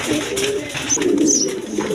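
A pair of Lahori pigeons coo close by, soft rolling calls repeating over two seconds, loud and clear with no talk.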